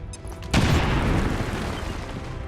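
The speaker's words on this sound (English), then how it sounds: "Grenades are not as lethal as firearms, but can damage multiple units and destroy cover and walls" A single loud grenade explosion in XCOM 2, a sudden heavy boom that rolls into a long rumbling, debris-filled decay after a brief quiet lead-in.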